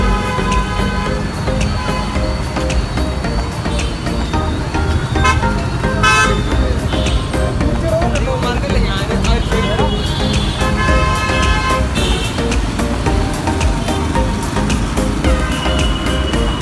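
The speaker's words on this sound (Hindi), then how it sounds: "ये देखो अभी ट्रैफिक जाम हो गया रे बाबा" Heavy traffic in a jam on a busy road at night in Tamil Nadu, with car horns tooting repeatedly over a constant loud roar of engines and street noise while someone talks throughout.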